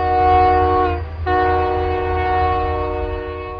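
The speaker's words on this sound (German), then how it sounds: "Nach 55 Jahren erklang zumindest wieder die mächtige Dampfpfeife eines Big Boy in den Weiten von Wyoming." Union Pacific Big Boy 4014 steam locomotive whistle sounds loud and close across open Wyoming country, a sustained chime chord broken by one short gap and then held again over a low rumble.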